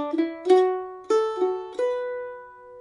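Mandolin picking the opening two bars of the folk tune Cumberland Gap, a short run of about six clear plucked notes with slides between some, ringing cleanly and alone at moderate volume.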